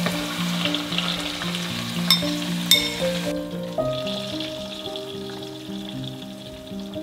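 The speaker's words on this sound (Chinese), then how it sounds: "用中小火把油加热到150摄氏度， 在这个温度下继续加热10分钟，加入切好的葱白、姜片和蒜片" Scallion whites, ginger and garlic slices frying in oil held near 150 °C over medium-low heat give a steady, close sizzle with a few sharp crackles and faint clinks, with no talking.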